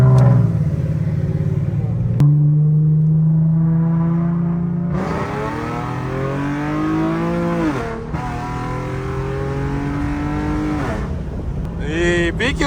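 A flame-tuned Infiniti G37 with an exhaust leak revs loud and close, its harsh exhaust note climbing and falling through repeated pulls, with a brief lift between runs.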